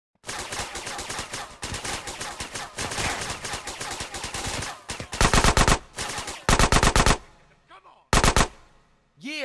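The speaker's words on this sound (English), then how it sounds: "that's a gun" Gunfire in GTA San Andreas: The Definitive Edition, loud rapid automatic bursts that hammer continuously, then break into short separated volleys with gaps of quiet between them.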